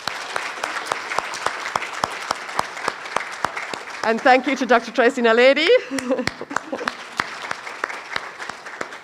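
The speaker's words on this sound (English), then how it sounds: "a huge round of applause to all the prize winners" Continuous applause from an audience at a university audiology oath-taking ceremony for prize winners, with someone speaking briefly over the clapping midway before it carries on and fades.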